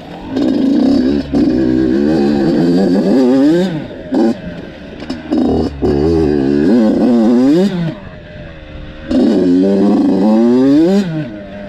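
Yamaha YZ 85 dirt bike engine revving hard and close, with repeated rising and falling two-stroke wails broken by short gaps, loud throughout with rattly mechanical clatter.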